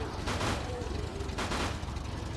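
Gunfire from the zombie shooter game Unkilled as a player shoots explosive barrels, with two dull bursts standing out over a constant noisy background.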